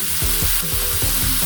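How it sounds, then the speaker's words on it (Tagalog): Loud, close sizzling of black fungus frying in a pan with shrimp, a dense crackling hiss with the scrape of stirring running through it. "Yung itim po, yung black fungus, fry lang natin ng konti"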